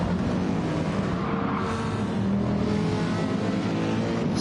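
A close train of race cars lapping Interlagos in Gran Turismo 7, engines roaring together in a constant dense drone with slight pitch swells as cars pass, no voices over it.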